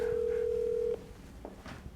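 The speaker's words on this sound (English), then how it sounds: "Let's call his cell phone." A call to a cell phone produces a steady ringback tone for about a second before it cuts off, leaving faint room noise.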